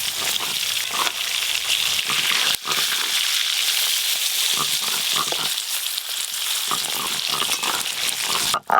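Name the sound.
hilsa fish frying in oil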